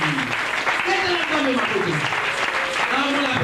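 A church congregation claps steadily while voices cheer and call out over the applause, forming a dense, continuous wash of clapping and raised voices that fills the space.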